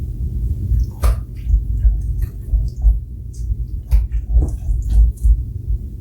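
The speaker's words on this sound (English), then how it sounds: "So we have 3 already whisked eggs that are going in there." Three whisked eggs are poured into a bowl of black bean burger mix, a close, loud wet sloshing and gentle splatter with a few soft knocks, heard without talking.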